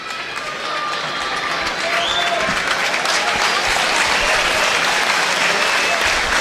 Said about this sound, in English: the applause is for Luke Armstrong